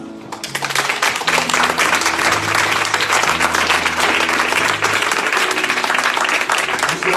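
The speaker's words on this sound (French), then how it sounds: "Je vais acclamer ça." A church congregation applauds steadily, dense clapping from many hands carrying on loud and unbroken throughout, with some low held music tones underneath.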